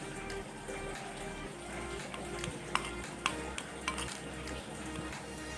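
Carp fishing bait being stirred together with fish oil: faint, continuous mushy scraping with a few light clicks and taps over a low background hum.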